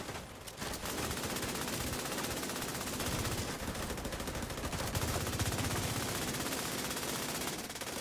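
Dense, rapid gunfire from a shooter video game, with automatic bursts shooting at enemies, crackles nearly nonstop, fairly loud and steady from start to finish.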